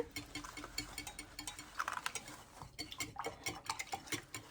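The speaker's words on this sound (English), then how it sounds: "now we're going to go ahead and whisk this together" A whisk beating pancake batter in a bowl, quick irregular ticking and clinking strokes against the bowl, fairly close but soft, heard with no talking.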